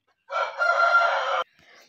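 A rooster crows once, loud and close, a sustained strained call that breaks off abruptly, followed by a brief faint trailing sound.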